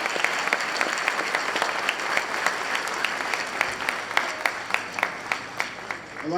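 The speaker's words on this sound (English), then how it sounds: "Can we have another round of applause" Graduation ceremony audience at a middle-high school applauding in a large hall, a dense sustained round of clapping from many hands that thins toward the end into scattered distinct claps.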